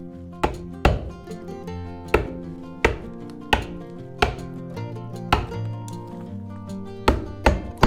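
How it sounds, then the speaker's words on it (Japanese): A carpenter drives a chisel with sharp mallet taps to finish grooves cut into local pine stair stringers, delivering about a dozen crisp, ringing strikes at a steady, slightly uneven pace, close and clear with no talk. "機械で溝を切ることができても、やはり最後の仕上げはのみで叩くしかありません。"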